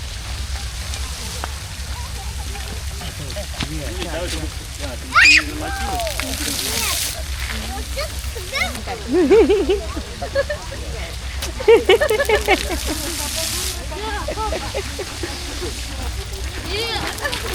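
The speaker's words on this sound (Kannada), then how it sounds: "ಜಸ್ಟ್ ಆ ರೂಟಲ್ಲಿ ಪಾಸ್ ಆದ ಕೂಡಲೇ ನೀರು ಸ್ಪ್ರೇ ಆಗೋಗ್ತದೆ" Continuous spraying of a water fountain along a children's play route in a Moscow metro station, with sloshing bursts and splashes as people pass, and voices talking over it.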